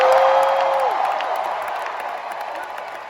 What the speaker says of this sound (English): by the sounds of the crowd, we have some fans here